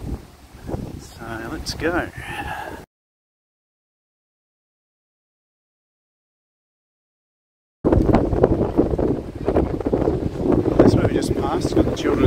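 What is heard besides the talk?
strong wind outdoors in Perth city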